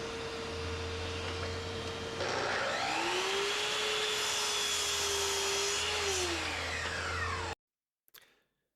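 A shop dust collection system runs steadily, a loud continuous roar with a rising whine as it spins up, then cuts off abruptly near the end, followed by a brief clunk.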